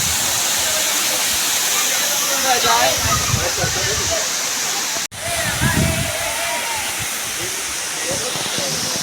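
A waterfall drops from a height at the Marleshwar hill temple, making a continuous loud roaring rush of falling water that holds steady throughout, with one very brief break partway.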